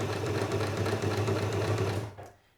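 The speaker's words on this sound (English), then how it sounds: "we're going to do a forward stitch followed by a short reverse stitch just to secure that in place" Close, continuous whir of a sewing machine running a forward stitch then a short reverse stitch on clothing fabric, humming steadily before winding down at the end.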